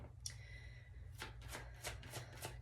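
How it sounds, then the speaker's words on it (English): Goddess oracle cards are shuffled by hand in a quiet room, a series of quick papery riffles and flutters repeating about every third of a second, close and soft. "I want to pull some goddess cards"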